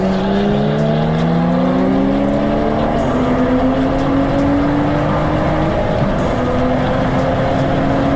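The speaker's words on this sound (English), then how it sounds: "That was a good race between those two." Cars race side by side, including a tuned F30 BMW 335i, engines revving and climbing through gears loud and close, overlapping rising engine tones with constant road roar.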